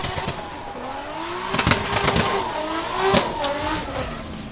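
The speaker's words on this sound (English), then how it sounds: "RB is going to see plenty of limit with Shane King behind the wheel." Drift car at Meremere Drift Park during MSC Challenge NZ qualifying, its engine revving hard with pitch sweeps and bursts of tire squeal, loud and continuous throughout.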